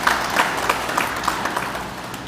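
Applause at a police anniversary award ceremony, a brief, moderately quiet ripple of clapping from the audience, with a few distinct claps standing out in a loose rhythm.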